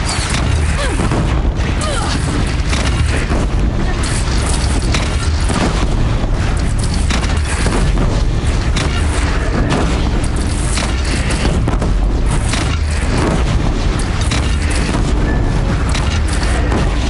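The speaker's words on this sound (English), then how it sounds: "They only have one cannon!" Dense, continuous booming cannon fire and explosions rumble through a battle with a bandit clan in Horizon Zero Dawn, loud and sustained with crashing impacts and no clear gaps, a voice faintly mixed in.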